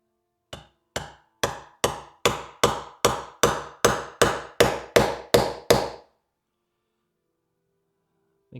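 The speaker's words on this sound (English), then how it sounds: "I'm going to give it some taps with the hammer, and we'll see if it'll fall out." About a dozen sharp metallic hammer taps strike an engine part that has a dropped valve, coming in a steady, evenly spaced rhythm close up, then stopping into near silence.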